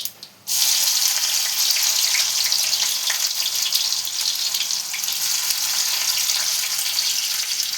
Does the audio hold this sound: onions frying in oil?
yes